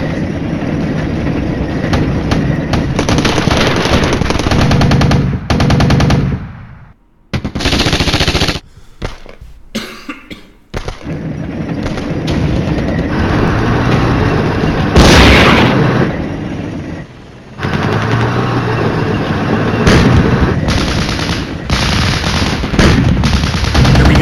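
Rapid machine-gun bursts and heavy booming tank shots from the wargame Flashpoint Campaigns, loud and sustained with brief lulls and a few sharp dropouts.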